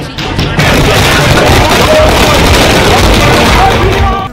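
Fireworks at a political party office celebration in Jaipur crackle in a loud, dense, continuous barrage of pops and bangs lasting several seconds, with crowd noise faintly underneath.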